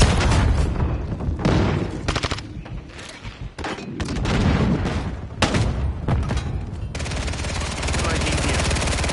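In Modern Warfare 3 search and destroy, a planted charge detonates amid dense game gunfire, with loud booms and rapid machine-gun bursts filling the mix, and a voice speaking over the action.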